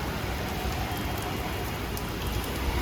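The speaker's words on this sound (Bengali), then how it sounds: "বাইরে বৃষ্টি হচ্ছে" Steady, dense rain pouring down outdoors, a constant hiss with no voices.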